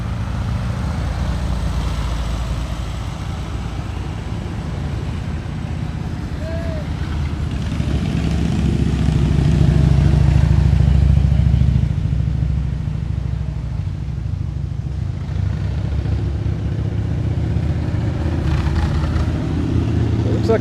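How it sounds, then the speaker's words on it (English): Vehicles pass along the wet US129 mountain road at Deals Gap, the Tail of the Dragon, with a steady rumble of traffic; one car swells and fades as it goes by, and a voice talks now and then. "Looks like the traffic's picking up a little bit."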